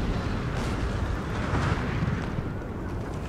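Artillery firing during a Napoleon Total War battle for Vienna, a dense continuous rumble of cannon blasts and explosions, loud and muffled, with no speech.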